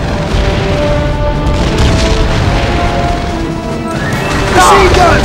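Artillery explosions in the Call of Duty World at War Betio assault battle: heavy booms and crashing blasts roll continuously under battlefield noise, with voices heard in the mix.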